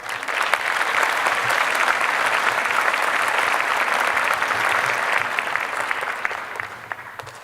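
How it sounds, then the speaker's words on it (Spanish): Loud, sustained applause from a conference audience at the welcome of the Semana Nacional de Gastroenterología in Puebla, honoring former presidents of the Mexican gastroenterology association; an even wash of many clapping hands that holds steady throughout. "para los que yo quisiera solicitar un fuerte aplauso"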